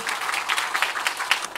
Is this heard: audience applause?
yes